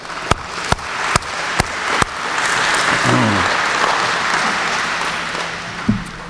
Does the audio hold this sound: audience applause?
yes